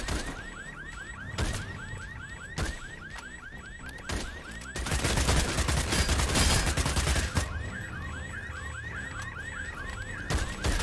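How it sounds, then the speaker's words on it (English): Rapid game gunfire fills a battle royale firefight against soldiers, with repeated electronic chirping alarm-like tones and a dense middle burst of shots, loud and close with no talk. "I'm just shooting at a soldier here."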